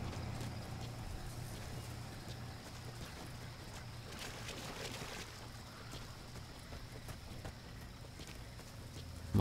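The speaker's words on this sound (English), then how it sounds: "My horse." Quiet, steady horse hoofbeats from Metal Gear Solid V: The Phantom Pain plod along under a faint, windy outdoor hiss, with no talking.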